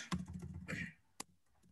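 Short bursts of quick keystrokes on a computer keyboard, faint and close, with a single sharper key tap after a pause.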